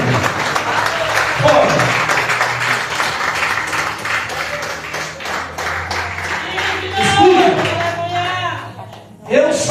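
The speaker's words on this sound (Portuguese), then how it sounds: "Palmas para Jesus, aleluia, glória a Deus. É para Jesus as palmas." A church congregation applauds for Jesus, steady clapping spread across the room for several seconds, mixed with a preacher's voice and murmured exclamations.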